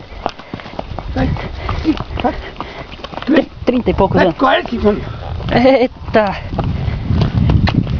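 Hooves clip-clop steadily as Paulo rides a horse, the rhythmic thuds running beneath lively Portuguese chatter and shouts from people nearby.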